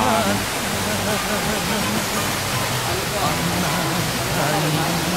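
A steady, full rush of falling water fills the scene, constant and close, with a voice speaking faintly underneath.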